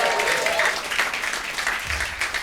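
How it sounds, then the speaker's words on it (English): An audience at a stand-up comedy show in Bristol breaks into a short burst of dense, steady clapping up close, with no voices rising above it. "Round of applause from Mickey, who opened the show."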